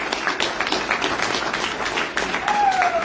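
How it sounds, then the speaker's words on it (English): A room of attendees at a real estate investors' talk gives a round of applause, a steady patter of many hands at close, fairly loud level throughout, with some voices mixed in. "Give them a big round of applause for all that."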